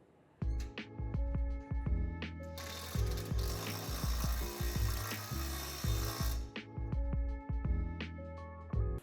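Bolts being tightened on storage container panels with a ratchet wrench, producing rapid clicking pawl strokes in bursts, with a stretch of continuous grinding or whirring in the middle, close and clear.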